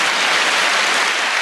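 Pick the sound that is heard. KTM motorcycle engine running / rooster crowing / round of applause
round of applause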